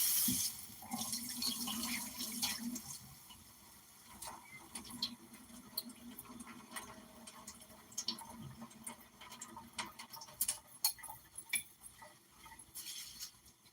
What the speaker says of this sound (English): Wash your rice until your water comes out clear.